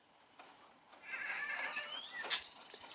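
A male goat bleats in one long, wavering, nasal cry that swells and holds for over a second against quiet outdoor background hiss, with no one talking.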